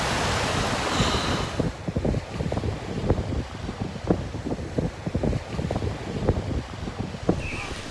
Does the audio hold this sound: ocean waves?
yes